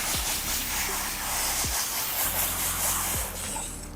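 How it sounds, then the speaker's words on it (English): A water spray hisses steadily and close while car wash brushes are rinsed out, with a low hum underneath and a few soft thumps. "And I always rinse out these brushes"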